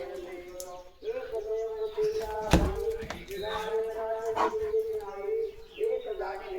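A German Shepherd barks repeatedly nearby, sharp yelps and drawn-out whining barks in an uneven rhythm, with some faint background noise.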